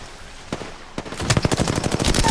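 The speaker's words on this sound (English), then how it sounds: "I hear my teammate shooting" Rapid automatic gunfire in Apex Legends, a teammate's bursts of shots that grow denser and louder toward the end.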